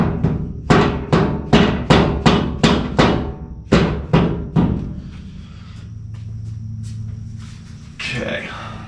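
A rubber dead blow hammer taps an LRB speed panel forward in a run of about ten sharp, loud thuds at a steady rhythm, followed by a low rumbling hum and a faint voice.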